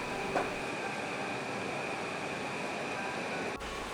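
A sightseeing train in Shikoku, Japan rolls slowly through scenic countryside, heard as a steady rumble of wheels and carriage noise with a faint sustained tonal hum, ending in a brief abrupt shift near the end.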